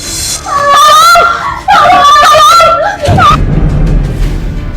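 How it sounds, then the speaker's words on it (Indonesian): A woman's high, wavering scream rises in two long cries, loud and close, followed by a sharp thud and rumbling noise in an Indonesian television drama scene. "Bu, kok tadi teriak?"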